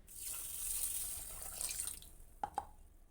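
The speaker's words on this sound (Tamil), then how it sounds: "இப்போ இதில் தண்ணி சேர்த்து ஊற வச்சிடலாம்" A faint hiss of water trickles into a container of rice and lentils set to soak, followed by two soft distinct drips near the end, close and quiet.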